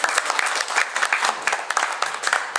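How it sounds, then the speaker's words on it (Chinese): An audience welcoming a guest breaks into sustained, dense applause, many hands clapping together evenly throughout, fairly loud and close. "掌声欢迎啊"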